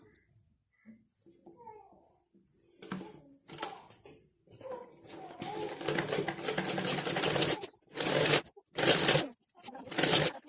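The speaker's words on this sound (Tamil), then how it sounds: "திருப்பிட்டு இதோட எட்ஜில் ஒரு ஸ்டிச் போட்டு எடுத்துடலாம்" A sewing machine runs stitches along the edge of a blouse neckline finished with a cross piece, starting with a few short bursts and then a long steady whir, followed by two more loud runs.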